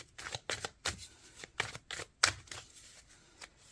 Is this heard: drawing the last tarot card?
yes